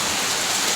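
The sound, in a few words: rain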